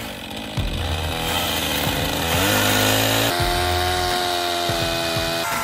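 Chainsaw cutting thick wooden slabs about 12 cm for a carved bench, engine running steadily at close range with rising and falling load as the bar bites into the wood, loud and continuous without talk.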